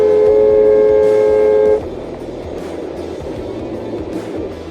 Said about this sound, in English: captured the sound of his tires screeching as he decelerated before honking at the oblivious pickup driver